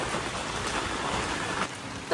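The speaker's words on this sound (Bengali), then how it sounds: "বল আজকে বৃষ্টি তো দারুণ লাগছে" Steady rain falls in a continuous, even hiss of drops, close and fairly loud throughout, with faint voices under it.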